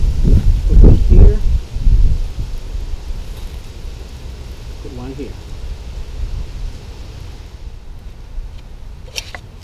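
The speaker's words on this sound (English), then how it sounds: "It is extremely windy, and I hope that you can hear me." Strong wind blows across an outdoor garden where flowers are being planted, a loud gusty rumble at first that settles into a steady rushing roar, with a muffled voice briefly at the start.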